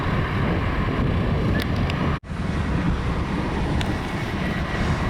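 Passenger airliner inbound from Philadelphia, a steady broad engine roar with wind rush heard from a distance outdoors, briefly cut by a short dropout midway, with no talking.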